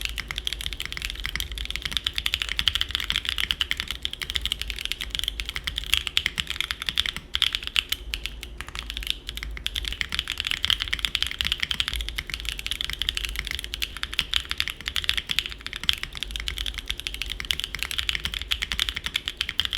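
Steady, continuous typing on a Mode Tempo mechanical keyboard fitted with PE foam and Lattice blocks, a dense close-up stream of crisp, poppy keystrokes running evenly throughout with no voices.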